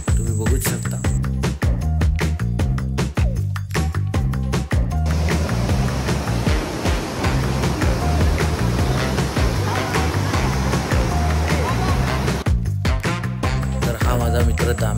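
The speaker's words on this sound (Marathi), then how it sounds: "हा आहे कडापे धबधबा, जो की एकदम सुंदर व आकर्षित असा धबधबा आहे." Kadape waterfall sends up a steady broadband rush of falling water, loudest through the middle stretch and partly masked by a continuous musical backing.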